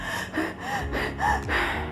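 A voice imitates the heavy panting of a woman in childbirth, a run of four or five quick, loud gasping breaths close to the microphone.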